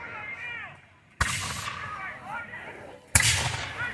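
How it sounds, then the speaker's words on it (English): Militia at an 1812 war reenactment fire muskets in ranks: two loud, sharp volleys about two seconds apart, each crack trailing off in a rumble, with faint voices in the gaps between. "here we're firing the militia by ranks"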